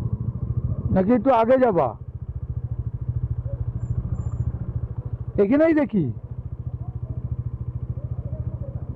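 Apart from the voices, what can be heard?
motorcycle engine idling on mountain trip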